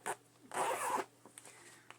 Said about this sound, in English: Sorry about the zipper.